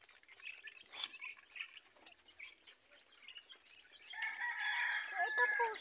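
Chickens cluck nearby in short scattered calls, swelling into a louder, drawn-out squawking toward the end.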